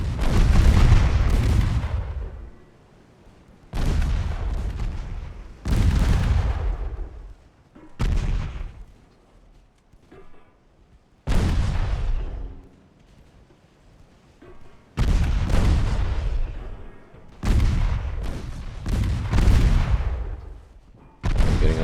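Heavy naval guns fire in the game Ultimate Admiral: Dreadnoughts, each deep boom followed by a long rumbling decay, about eight loud salvos at irregular intervals of a few seconds with shells ricocheting off warships.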